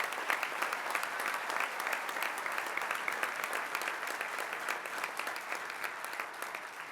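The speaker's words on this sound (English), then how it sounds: "One last round of applause for our class of 2016." Applause from a banquet crowd at a sports hall of fame dinner, continuous dense clapping that holds steady for several seconds, heard from across the room without speech.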